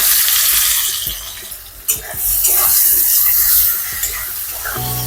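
Chopped onions hitting hot mustard oil in a wok for a crab curry, a loud close spray-like sizzle with stirring scrapes and a brief clatter near the start, no talking.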